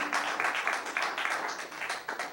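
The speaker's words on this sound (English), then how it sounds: "Give the baby a round of applause." An audience claps for a baby at an evening talk, a brief burst of scattered, moderately loud applause lasting a couple of seconds.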